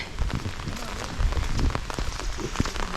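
Light drizzle pattering steadily on leaves and surfaces in dense forest, with scattered distinct drops standing out against a soft continuous hiss.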